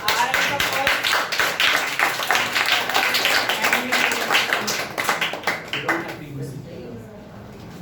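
An audience at a public speaking competition claps in a brisk, fairly close burst of individual claps for several seconds before it fades out.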